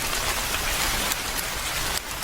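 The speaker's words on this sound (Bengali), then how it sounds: "অদ্ভুতভাবে বৃষ্টি থেমে গেল" Steady rain falls on a surface, a dense close hiss of drops with a few slightly louder splashes, used as an atmospheric effect in a village ghost story, with no voices.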